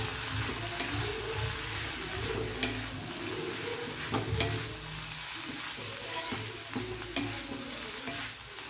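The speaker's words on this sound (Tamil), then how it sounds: "கொஞ்சம் தேங்காய் இதில் ஃப்ரை ஆகட்டுங்க" Grated coconut frying in a pan as part of a chayote (chow chow) poriyal, stirred steadily with a spoon, giving continuous close sizzling and crackling with occasional scraping clicks, no voices.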